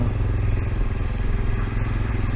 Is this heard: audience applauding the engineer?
no